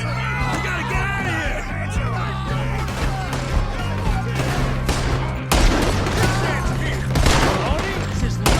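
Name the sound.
gunfire in Red Dead Redemption 2 video game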